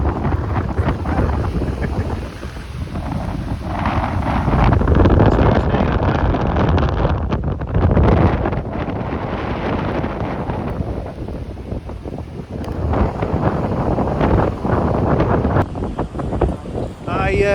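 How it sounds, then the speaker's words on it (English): Strong wind buffets the microphone at a beach in Bootle, Cumbria, a loud continuous roar with gusts swelling and easing, and waves faintly beneath. "It's a bit windy."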